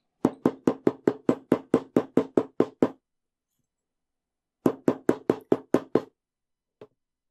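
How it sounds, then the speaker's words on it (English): Two bursts of quick, sharp hammer taps on jewelry wire for wire-wrapped earrings, a dozen strikes then a pause and a shorter run of about six, ending with one faint tap. "we can hammer the rest of the wire just to help it hold its shape."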